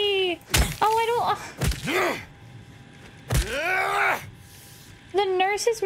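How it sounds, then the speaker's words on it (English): Pained groans from a nurse monster in the Silent Hill 2 video game, several drawn-out moaning cries with bending pitch separated by heavy thuds and short gaps, loud and close. "The nurses make noises when they get hurt."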